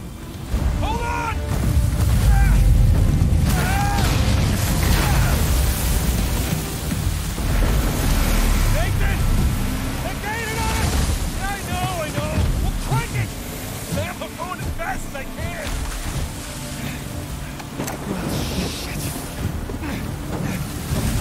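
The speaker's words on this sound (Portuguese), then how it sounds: "Lembro-me que o Drake mais o Sam num barco, uma perseguição começa logo muito bem." Boat chase on the open ocean in the Uncharted 4 video game: a loud, steady wash of engine, wind and crashing waves with splashes, bursts of game music and dialogue running throughout.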